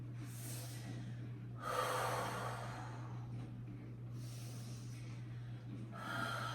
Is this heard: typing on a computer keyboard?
no